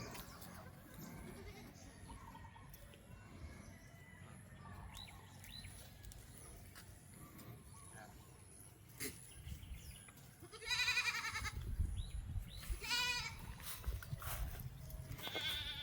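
Several loud goat bleats come in the later part, with quieter farm noise, birds chirping and faint voices throughout.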